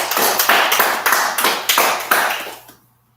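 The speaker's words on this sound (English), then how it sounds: "Give yourselves a round of applause." Barber exam candidates clap together in a short burst of loud, close applause, rhythmic slaps that stop abruptly and fade into silence.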